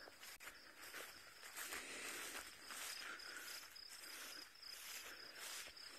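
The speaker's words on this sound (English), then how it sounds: "Can you hear the crickets? I can hear a lot of crickets going." Many crickets chirp steadily at once during a safari game drive, a dense continuous high trill with faint rustling and movement underneath, moderately loud throughout.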